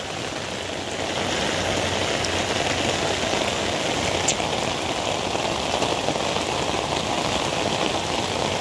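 Heavy typhoon rain (Typhoon Dante) pours down steadily in a flooded street, a dense, loud, unbroken hiss that swells slightly after the first second and holds without pause.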